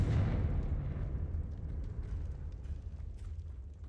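A Confringo spell blast from the video game Hogwarts Legacy lands as a loud, deep boom, then rumbles and slowly fades away with scattered crackling debris and no talking.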